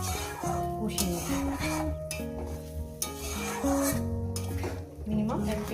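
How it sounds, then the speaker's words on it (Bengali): Masala and tomato being stirred and sautéed in a pan for a Bengali fish curry with potatoes, a steady scraping sizzle with utensil scrapes throughout, under background music. "এটাকে একটু নাড়াচাড়া করে মানে কষিয়ে নেবো"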